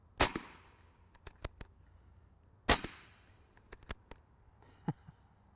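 Suppressed AirForce TalonP air rifle carbine firing outdoors: two sharp, dry cracks a few seconds apart, separated by quieter mechanical clicks and rattles, with no talking.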